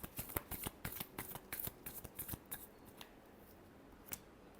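Tarot cards being shuffled for a reading, a quick run of crisp riffling snaps and flutters for about three seconds, then a single sharp card slap after a pause.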